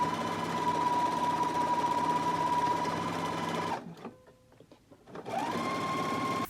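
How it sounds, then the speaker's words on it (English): Home sewing machine stitching a narrow hem on a gathered skirt: steady whirring hum for nearly four seconds, a pause with faint handling clicks, then the motor starts up again, close and alone. "So now I can go to the machine. I'm going to stitch close to this inner fold"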